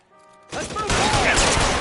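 Gunfire in the L.A. Noire video game, a sharp burst of shots erupting after a quiet start and continuing as a dense, loud volley with ringing tones under the din.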